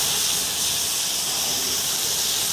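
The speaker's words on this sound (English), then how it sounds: "We're using high heat on this, and it's just searing it off." Flank steak sears over high heat on a hot grill with a loud, continuous hiss and sizzle, steady and close, with no pauses.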